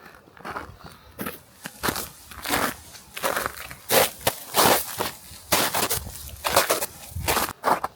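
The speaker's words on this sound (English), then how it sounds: "Crunchy snow." Footsteps crunch steadily through snow at a walking pace in Valdez, each step a crisp, close granular crunch.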